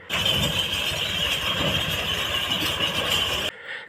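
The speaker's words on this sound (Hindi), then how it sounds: "ट्रैक्टर में थ्रेशर को जोड़कर सरसों की गेहाई का अमल शुरू किया जाता है।" A tractor-driven thresher working a mustard crop gives off a loud continuous mechanical roar with a high whining squeal, steady until it drops abruptly near the end.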